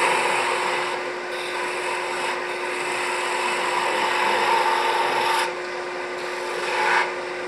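A final cut is made in wood with a tool that rubs and rasps in steady strokes, with brief dips and swells in loudness. There is a faint steady tone underneath, and no one speaks.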